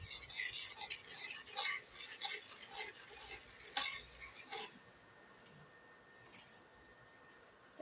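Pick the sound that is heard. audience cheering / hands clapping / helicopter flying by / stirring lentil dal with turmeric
stirring lentil dal with turmeric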